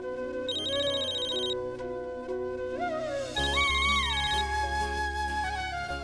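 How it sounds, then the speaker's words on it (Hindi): An electronic phone ringtone plays a bright, repeating melodic tune, clear and steady for several seconds with no talking. "ये मैं रागिनी को फोन करती हूँ"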